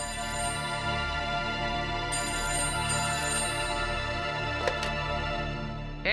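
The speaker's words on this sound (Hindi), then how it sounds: "फोन भी रात बेरात बजने लगो है।" A telephone rings in a home late at night, repeated bright electronic ringtone bursts over a steady background tone, fairly loud and with no talking.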